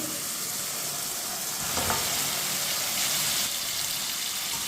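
Parboiled mutton for an Eid pulao sizzles and fries in a pot with a little water as it is stirred, giving a steady close hiss that swells briefly at each stir.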